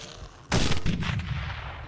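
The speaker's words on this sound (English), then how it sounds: "it's not a good idea to be planning on using the can gun" A sudden loud burst from the can gun in the video game Teleglitch, a broad noisy blast that cuts in abruptly and rumbles on with rough, crackling decay under no talk.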